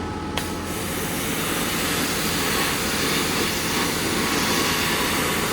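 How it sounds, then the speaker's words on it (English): A pressure jet washer sprays water onto the wheels of a bent trailer, a steady loud hissing spray running continuously and close to the microphone with no talk. "Very therapeutic cleaning something with a jet wash, especially when it's really dirty."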